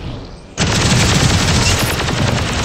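Gunfire from a mech's skill in the PC game Gundam Evolution, a dense continuous burst of rapid shots that starts abruptly and stays loud and steady to the end.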